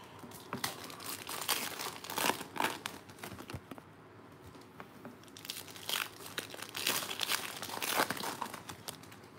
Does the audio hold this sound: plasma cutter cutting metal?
no